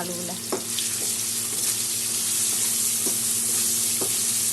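Steady hiss of potatoes frying in oil with turmeric and salt, with a few sharp scraping and stirring knocks from a utensil, close by and without talk.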